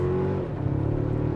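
A 2024 Toyota Tacoma TRD Off-Road pickup truck accelerating on the road, a steady engine drone that rises in pitch as it builds speed, heard from inside the cabin.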